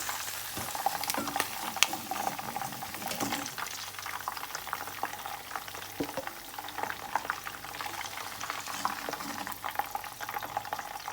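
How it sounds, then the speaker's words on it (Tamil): Chicken drumsticks fry in hot oil with a dense, steady sizzle and crackle, scattered sharper pops spiking through the bubbling hiss, moderately close and without voices. "இப்போது சிக்கன் நமக்கு நல்லா ஃப்ரை ஆகிடுச்சு 2 பக்கமும்."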